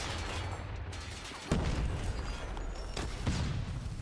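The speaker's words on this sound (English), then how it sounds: "That is a lot of explosions," Explosions and fire rumble in Call of Duty Mobile gameplay as a dense, continuous roar, punctuated by two sharper blasts.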